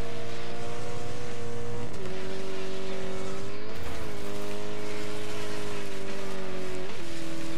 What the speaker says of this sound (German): Fährt sich aber auch gut, muss man sagen. Slidet hier schön elegant durch die Kurven.